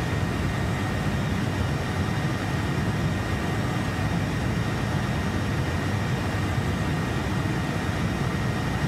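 A DC Designs Harrier II flies along in Microsoft Flight Simulator 2020, its jet engine a constant, heavy, low roar with a broad rushing hiss layered on top, steady and unbroken with no voices.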